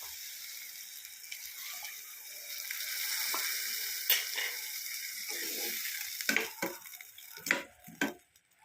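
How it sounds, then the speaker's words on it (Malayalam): Squeezed tamarind juice hitting a hot pan for a lime theeyal, giving a steady close sizzle that rises over several seconds, then breaks into sharp bubbling pops and crackles near the end, with no voices. "ആ പുളി പിഴിഞ്ഞതങ്ങ് ഒഴിച്ചു കൊടുക്കാം"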